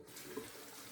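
Cold water running steadily from a bathroom tap for a rinse after a shave, a soft, faint hiss with a small splash, no voices.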